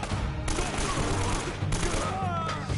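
Rapid gunfire in Uncharted: Drake's Fortune video game, dense bursts of automatic shots and bangs, loud and close, continuing throughout with a faint voice mixed underneath.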